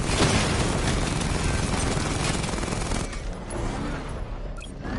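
A weapon barrage firing in Batman: Arkham Knight, a dense, continuous roar of rapid shots and explosions that stays loud throughout and eases slightly near the end.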